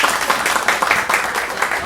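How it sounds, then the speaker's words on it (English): A studio audience applauds to pick a contest winner, a dense, steady wash of clapping that fills the short moment with no break. "You applaud so we can pick a winner."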